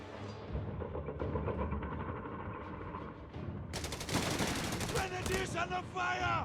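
Rapid bursts of machine-gun and rifle fire crackle through a World War II battle in Company of Heroes 3, rattling continuously, then a louder, denser volley erupts partway through, with game voices and effects mixed in.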